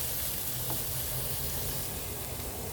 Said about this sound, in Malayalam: ഇത്തിരി വെളിച്ചെണ്ണ ഒഴിച്ച് കൊടുക്കാം. അതൊന്ന് മൂത്ത് വരുമ്പോൾ